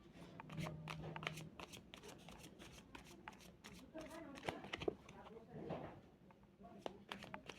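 Tarot cards shuffled by hand in a close, papery riffle and slide that repeats in bursts, with someone speaking Bengali over much of it.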